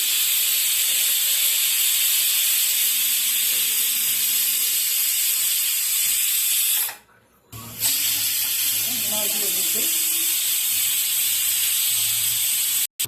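Pressure cooker whistling loud and steady on the stove while chicken gravy cooks, a long hissing steam blast that cuts off briefly before resuming, with faint voices underneath.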